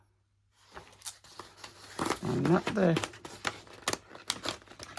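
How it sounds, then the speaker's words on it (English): Scissors cutting a paper rectangle for a wedding journal, a run of crisp close snips and crinkles following a brief spoken word, fairly loud with short pauses between cuts. "I'm going to attempt to cut it out with these"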